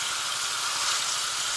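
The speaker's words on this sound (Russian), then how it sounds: "Перемешиваем и жарим мясо" Pieces of pork sizzle in a pan in a steady, bright hiss, frying at an even level with no voices.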